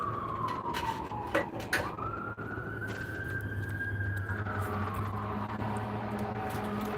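A siren wails in the distance with one long rising and falling tone over a low hum and a few faint knocks.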